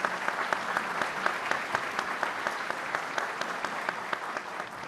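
An audience at a Brazilian consumer law congress applauds the public defenders, a steady round of dense clapping from a large hall that holds evenly for several seconds before easing slightly.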